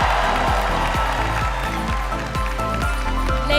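A pageant preliminary crowd applauds and cheers under loud thumping music with a steady beat, the clapping a continuous dense wash that stays strong throughout.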